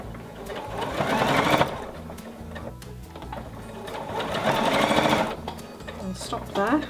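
Sewing machine stitching the sleeve of a baby onesie in two close, loud bursts of rapid mechanical whirring, with a brief slowdown between them and a short pause near the end.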